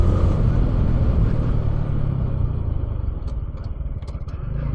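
Riding a motorcycle on an uncrowded road: a steady, close engine rumble with wind noise runs throughout, with light clatter near the end.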